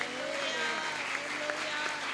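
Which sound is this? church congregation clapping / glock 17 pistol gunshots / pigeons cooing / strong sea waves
church congregation clapping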